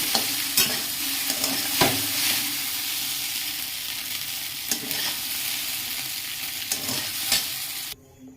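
Soybean chunks fry in hot oil with a constant bright sizzle, broken by several sharp scrapes and clinks as a spatula stirs the pan, before the sizzle cuts off abruptly at the end.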